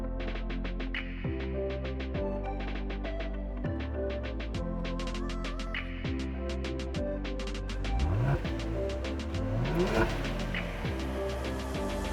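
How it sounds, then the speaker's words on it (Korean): A 2017-launched Genesis G70 3.3 gasoline turbo in Royal Blue on a commute drive, heard from inside: a steady engine hum that rises and drops through repeated gear changes, with a brief louder acceleration surge near the end. "그럼 지금부터 G70과 함께 퇴근길 드라이브 시작해볼까요?"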